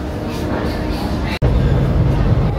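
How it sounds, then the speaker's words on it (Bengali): The Howrah Balurghat Express with new LHB coaches pulls out of Howrah station, giving a steady, loud rolling rumble with one brief dropout partway through. "নির্ধারিত সময় থেকে 5 মিনিটের লেটে আমাদের ট্রেন হাওড়া স্টেশন ছেড়ে এখন বেরিয়ে যাচ্ছে"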